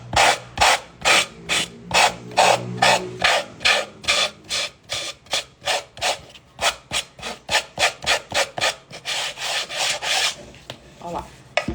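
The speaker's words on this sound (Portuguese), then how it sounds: "Então a gente corta maior para lixar." Paper edge being sanded on a sewing box project, a close, loud rasping of rhythmic strokes, about two per second, continuing steadily with no talk.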